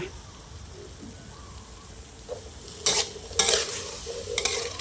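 A spatula stirs asparagus and minced pork frying in a pan with a little water. Steady low sizzling runs underneath, and several louder scraping strokes come near the end, heard close up.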